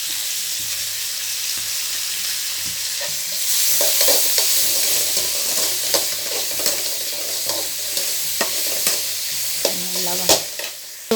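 Tomatoes frying with spice powder for a tomato curry, a continuous loud sizzle with rhythmic scraping stirs and occasional utensil clinks, no talk.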